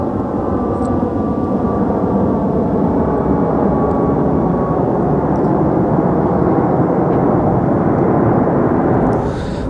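An airplane passes overhead near Manchester Airport, heard from a narrowboat on the Bridgewater Canal. A loud, continuous, close engine roar holds steady for the whole stretch.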